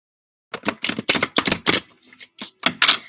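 Tarot cards being shuffled and drawn, a quick series of sharp papery snaps and flicks in irregular bursts, close and fairly loud, with no talking.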